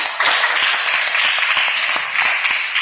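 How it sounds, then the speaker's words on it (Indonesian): A classroom of Indonesian schoolchildren applauds, a steady patter of many hands clapping close by for a few seconds with little talk. "Iya, tepuk tangan."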